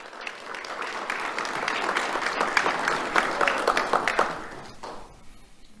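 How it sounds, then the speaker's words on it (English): Audience applause at a Lee County Sheriff's Office Do The Right Thing awards ceremony, greeting a third-grade honoree: a steady wash of many hands clapping for about five seconds, peaking midway, then fading off near the end. "Let's have a round of applause for Logan Renner."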